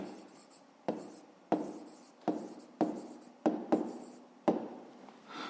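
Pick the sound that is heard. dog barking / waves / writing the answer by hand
writing the answer by hand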